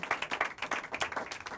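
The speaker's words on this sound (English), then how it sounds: "Give her a round of applause one more time." Audience applause for a singer at a B-Side performance: a dense run of quick hand claps from a small crowd, close and lively, continuing steadily without speech.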